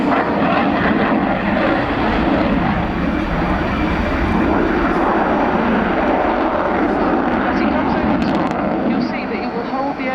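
An RAF Typhoon fighter jet roars loudly overhead during an air show display at Yeovilton, a continuous, powerful engine rumble with a harsh broadband hiss, steady and close.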